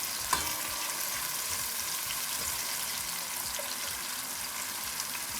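October beans and rice with extra garlic frying in a pan, a continuous soft hiss and crackle of sizzling oil, steady and close, with one brief clink near the start and no voices.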